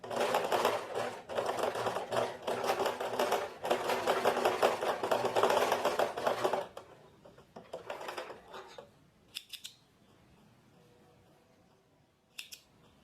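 Sewing machine stitching a 1 cm seam on tailored trousers, with backstitching at the start and end: a loud, dense stitching run for about six seconds, then short separate bursts.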